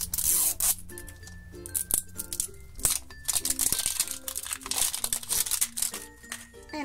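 LOL Little Sisters Series 2 surprise packaging gets unwrapped close up, with crinkling plastic and rustling wrap over a bright background music track, no talking.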